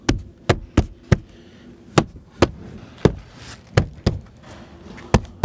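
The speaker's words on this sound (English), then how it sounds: "see all these tabs are lined up to the holes, and then you just push them in." Plastic tabs on a car driver door panel snap into their holes as the panel is pushed in. A close series of about a dozen sharp, irregular knocks and thumps with quiet gaps between them, and no speech.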